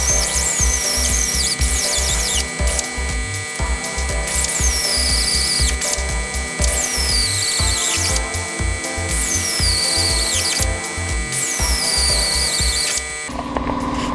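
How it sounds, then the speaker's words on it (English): A power drill bores a hole for a new shifter in a rat rod dually truck during a 460 engine swap, whirring loudly and steadily in several long passes with brief pauses between them. "Drilling a hole right in the middle, right there."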